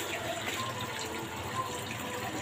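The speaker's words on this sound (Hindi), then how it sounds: "ये देखिए पानी जा रहा है।" A steady stream of water pouring and splashing out of a balloon, continuous and moderately quiet, with no talking.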